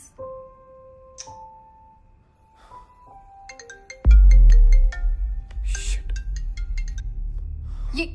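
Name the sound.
phone ringtone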